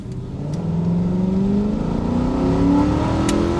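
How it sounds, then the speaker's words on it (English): A car drives past nearby, its engine pitch climbing steadily as it accelerates, in a continuous, fairly loud whir with no talking. "There's a car right there."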